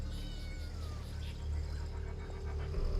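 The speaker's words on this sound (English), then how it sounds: "Oh, it's just a little cat." A little cat meowing in Genshin Impact during the Akitsu Kimodameshi event, faint thin meows over a loud ambient game background, with no talk during the sound.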